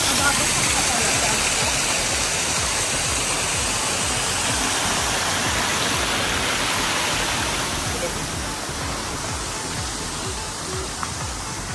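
A small waterfall beside a trail in Abra pours in a constant, loud splashing roar close by, easing slightly toward the end, with no talk heard over the water.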